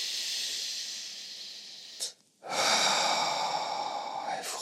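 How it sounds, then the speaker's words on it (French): Slow deep breaths taken during a relaxation exercise: a long soft airy exhale, a short pause, then a fuller breath, close and alone with no talking. "Et vous prenez quelques grandes respirations profondes comme ça."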